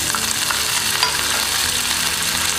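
Chana dal, urad dal and curry leaves sizzle and crackle in hot oil as they are stirred for kara paniyaram, a close, steady frying hiss with no voices.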